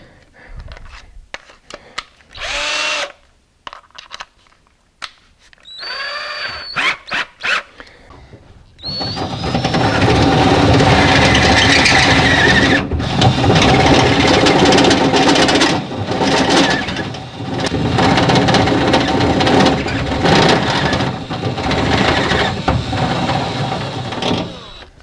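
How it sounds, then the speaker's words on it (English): A step drill bores a hole through to its largest 1-inch step, starting with a few short stop-start bursts and then settling into a loud, sustained grinding whir that runs for over fifteen seconds. "I've got to use the largest section of this step drill"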